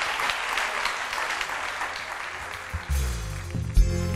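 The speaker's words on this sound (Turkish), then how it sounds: "Alkışlar Gamze Hanım'a." A studio audience on a Turkish daytime talk show claps in a steady, moderate round that softens, then music begins underneath as the applause tails off.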